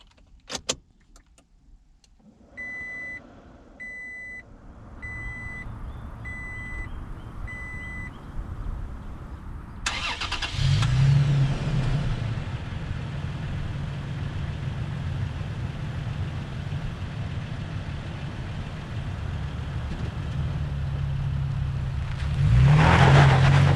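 Keys jingle and a dashboard chime beeps repeatedly, then a 2021 Toyota Tacoma Trail Edition engine starts and settles into a steady running rumble that rises slightly near the end.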